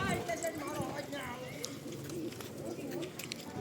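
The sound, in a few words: pigeons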